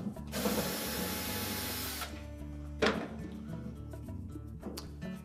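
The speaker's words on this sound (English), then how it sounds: "Then we'll remove 2 Phillips screws from the back panel that hold that valve in place." A driver backs Phillips screws out of the back panel of a Whirlpool washer, where they hold the dual water valve. It gives a quiet ratcheting, whirring mechanical sound with a sharp click partway through, close by.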